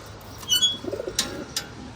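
Pigeons in a coop give soft, low cooing calls along with a few brief sharper chirps and scuffs, close by and fairly quiet.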